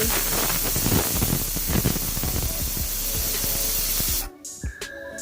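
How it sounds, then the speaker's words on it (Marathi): Steady, loud hiss of steam escaping from a pressure cooker for about four seconds, then it cuts off, leaving a few faint clicks. "गॅस बंद करून या कुकरची आता वाफ जाऊ द्यायची"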